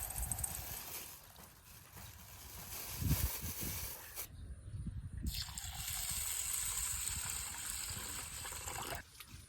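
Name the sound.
washing rice and lentils in water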